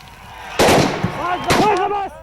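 Gunfire aimed at a leopard rings out in a couple of loud, sharp bursts, each followed by a ringing decay, with a voice shouting among the shots.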